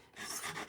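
An emery board rasps steadily against a paper cutter blade at a desk, a close, continuous gritty scraping that holds for most of the moment.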